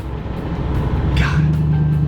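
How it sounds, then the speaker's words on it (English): A 1968 Mustang California Special driving on a straight stretch of mountain road, a steady engine drone and road noise heard from inside, with a brief rising whoosh near the middle. "when you get a straightaway, and you get to let that Mustang run"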